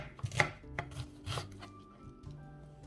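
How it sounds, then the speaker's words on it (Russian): A knife chops a medium onion into small cubes on a board: a handful of crisp, close taps at an uneven pace, the first few sharpest, with faint clinks and quiet room tone between them and no talking. "Одну среднюю луковицу нарезаем мелкими кубиками."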